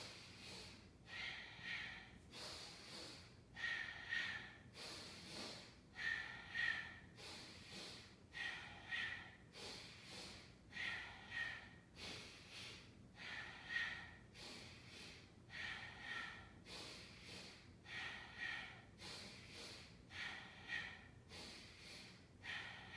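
Slow, rhythmic nasal breathing during a hatha yoga session, each inhale and exhale through a closed mouth audible as a soft airy rush, repeating steadily about every one to two seconds, close and quiet.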